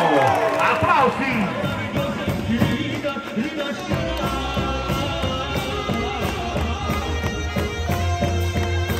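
A large outdoor crowd at a Barra feast with a lily-carrying procession breaks into applause and cheering, loud and dense, mixed with voices and music that fill the scene for several seconds.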